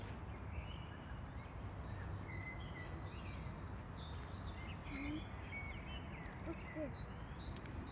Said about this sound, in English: It's a very peaceful park with beautiful birds making beautiful music.